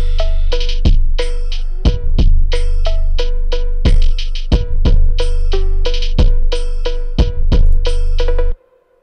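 A slowed-down, halftime phonk beat made in Ableton Live, with loud booming kicks and punchy hits in a heavy, dragging rhythm under looping melodic tones, playing alone until it cuts off abruptly near the end.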